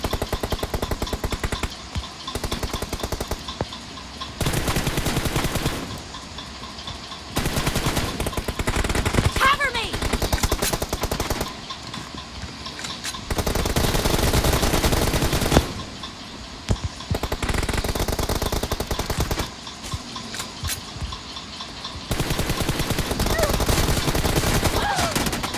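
Rapid bursts of automatic gunfire from a shooting video game come in repeated loud volleys separated by short pauses, with a voice talking over the action.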